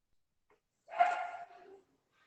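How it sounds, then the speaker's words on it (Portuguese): A single muffled bark from a female dog, somewhat distant and brief, in otherwise near silence. "Você sabe por que desse escândalo da cachorra?"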